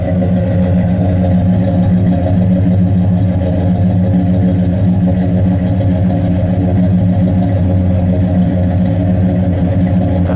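A 1969 Pontiac GTO with its 400 Ram Air III V8 and four-speed settles into a steady, loud idle, a low even rumble with a busy lope running unchanged throughout, close by and with no talk.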